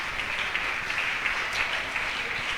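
A church congregation claps during a Spanish-language sermon, producing a steady, moderately quiet wash of dense applause that holds evenly throughout with no clear speech over it.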